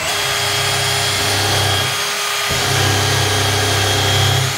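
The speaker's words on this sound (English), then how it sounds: "countersink your first hole" A power drill countersinks a screw hole in a baseboard during DIY trim installation, giving two loud, steady whirring bursts of motor drone separated by a short pause, close up with no talk.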